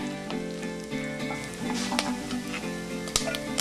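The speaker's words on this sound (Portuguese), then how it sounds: "Numa panela, frite o bacon até ficar sequinho." Bacon frying in a pot until crisp for virado de feijão, a loud steady sizzle with crackling pops and a few sharp spits, no speech over it.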